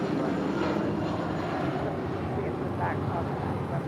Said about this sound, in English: This is United Airlines 2039 departing to Chicago O'Hare on a 757-300